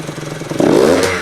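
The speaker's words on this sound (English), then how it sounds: "Still breaking in too, so the motor sounds good, everything sounds awesome." A freshly built Yamaha YZ85 dirt bike engine, still being broken in, runs loud and close with a rough, rattly idle that swells into a short rising rev.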